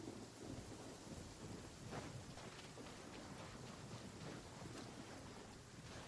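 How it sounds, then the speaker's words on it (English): Steady rain pours down continuously in a storm, with low rumbling thunder and gusts of wind noise in the background, loud and constant without any voices. "Oh, good. It's still raining."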